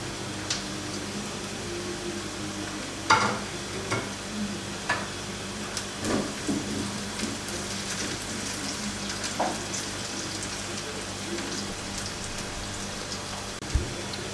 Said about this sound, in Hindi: इसको थोड़ा सा बस हमने फ्राई करना है